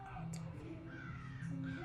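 A crow caws a few times outdoors, harsh calls that sound distant and faint above a steady background hum.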